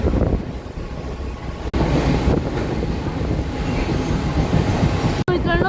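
A Thane–Nerul slow local train on the Trans Harbour line rumbles steadily from inside, with rhythmic wheel clatter and wind rush throughout, briefly cut twice.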